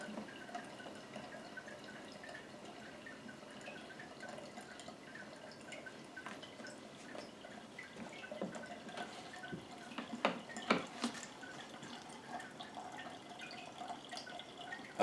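Cold brew coffee drains and drips into a sink, a faint, close patter of scattered drops and trickles that grows a little busier toward the middle, with no talk.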